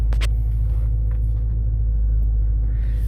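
Steady low engine rumble from a 2018 Dodge Charger R/T with a 5.7L Hemi V8 cruising on the road, a constant droning hum with faint road noise and a couple of brief clicks early on.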